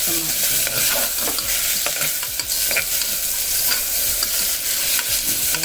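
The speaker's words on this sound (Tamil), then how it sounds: "இப்போ நான் அந்த கருவேப்பிலையை கொஞ்சம் போட்டுக்கிறேன் வெங்காயம்" Curry leaves and onion frying loudly in a pan, a dense sizzle broken by repeated sharp stirring scrapes and crackles close to the microphone, with no talking.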